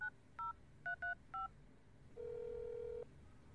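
A phone number being dialed on a telephone keypad: five short, evenly spaced touch-tone beeps followed by a longer steady tone, close and quiet against faint background hum.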